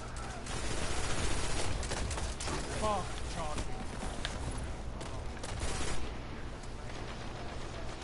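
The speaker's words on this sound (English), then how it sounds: "There's a guy shotgunning in the corner." Shotgun fire in a Destiny Iron Banner match, with rapid, repeated blasts and heavy, dense combat noise mixed with game effects, while players talk over the action.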